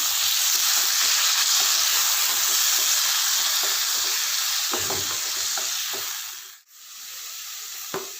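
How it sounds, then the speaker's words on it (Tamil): Pineapple pieces fry in ghee with a steady, close sizzle and hiss that carries most of the way, broken by a few scraping stirs near the end and a brief dip in the sizzle before it resumes. "அதே நெய்யில் கட் பண்ணி வச்சுருக்க அன்னாச்சி பழத்தையும் சேர்த்து வறுத்துடலாம்"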